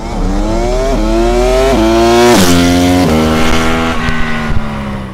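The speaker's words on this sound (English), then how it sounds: "it sounds like it will be powered by a parallel twin with a 270 crank" A 2022 Honda Hornet parallel-twin engine with a 270-degree crank revs repeatedly, pitch climbing and dropping in several surges, with a loud, close, throaty twin-cylinder burble.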